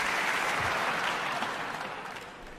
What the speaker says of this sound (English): You guys are just applauding for everything, it's great.